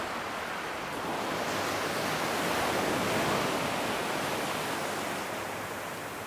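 Ocean surf breaks on a New Hampshire beach at Rye in a broad, continuous wash of rushing water, loud and steady with a slight swell in the middle, no voices.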